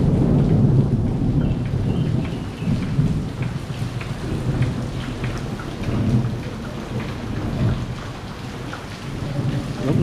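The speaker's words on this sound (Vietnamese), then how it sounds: "trời đột nhiên cho cơn mưa." Heavy morning rain pouring down with rumbling thunder, a dense steady roar of rain on surfaces with deep rolling swells throughout, loud and continuous with no talk.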